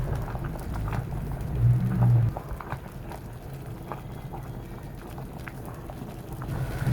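Glutinous sticky rice simmering in water in a pot while being stirred, a steady bubbling, crackling texture with soft clicks, a brief louder scrape partway through, and no voices.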